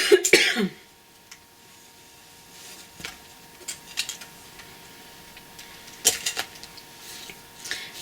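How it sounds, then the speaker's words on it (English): A burst of harsh coughing at the start in a quiet room, followed by scattered small clicks and taps and a couple of faint throaty sounds. "Sorry, coughing got me."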